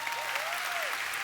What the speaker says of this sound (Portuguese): Você pode aplaudir essa turma.